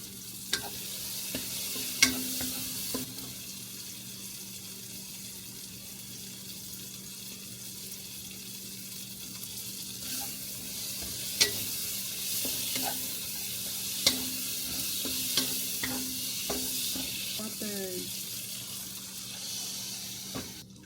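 Food sizzles in a frying pan on a home stove while a utensil scrapes and stirs it, a steady close frying hiss broken by occasional clinks and scrapes of the spoon against the pan, no talking.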